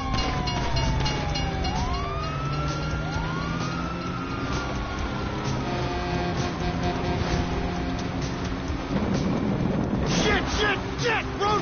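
Police sirens wail in a video-game car chase, sweeping tones rising and falling over a dense rumble of engines and traffic, with a burst of harsher noise near the end.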